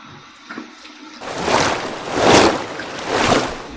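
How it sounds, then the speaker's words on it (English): Cold tap water runs and is splashed during a shave rinse with a vintage Gillette Atra razor, a quiet start then three loud rising washes of splashing water up close. "Okay, here's my cold water rinse."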